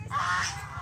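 A goose honks loudly and close by, one harsh nasal call that rises and holds for most of a second over low rumbling background noise.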